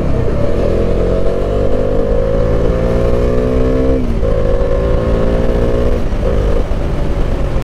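A Kawasaki Ninja ZX10R superbike rides on a road, its engine droning loud and close with two rising revs as it accelerates through the gears, and wind rush behind it.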